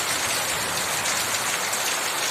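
Heavy rain pours down steadily in a torrential downpour, a dense, even hiss close by and fairly loud, with no voices.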